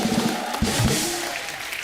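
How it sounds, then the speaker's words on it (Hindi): A studio audience at a comedy talk show applauds for Anupam with a steady, dense wash of clapping, with faint music underneath and no clear speech. "अनुपम सर के लिए जोरदार ताली हो जाए"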